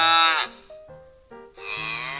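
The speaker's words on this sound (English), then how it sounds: "the sound of a cow is called" A cow lowing twice, long harmonic moos with a brief pause between, loud and close with no talking over it.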